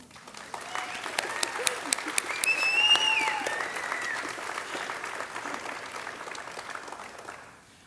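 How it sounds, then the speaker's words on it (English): An audience applauds at a nursing honor society ceremony, a lively crowd clapping that builds and then gradually fades, with a few cheers and whoops mixed in over the noise. "We feel that alone deserves a round of applause."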